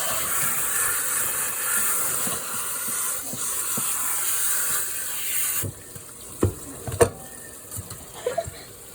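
Tap water runs steadily into a tub for a puppy's bath, a bright continuous hiss that cuts off partway, leaving quieter splashes and a few clunks.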